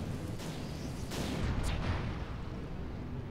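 Cannons fire in the video game Project Nomads: a couple of dull, quick booms over a steady rushing background, moderately distant.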